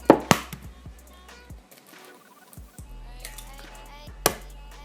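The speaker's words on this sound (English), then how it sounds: "I have 2 eggs here chilled and I'm just going to crack them and put them into my mixing bowl" Chilled eggs cracked against a hard edge and dropped into a mixing bowl, giving a few sharp close taps and cracks with softer clicks in between on a quiet background.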